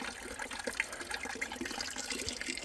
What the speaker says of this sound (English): I got some water filtering now.